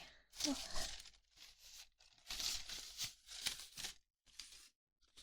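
Loose pieces of paper, including receipts, are rustled and shuffled up close in a quiet room, with soft crinkles and tearing-like crackles in several bursts separated by brief pauses.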